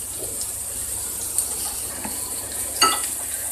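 Onion, carrot and green pepper frying together in a pan, a soft steady sizzle with a couple of brief clinks and scrapes from stirring, close and fairly quiet.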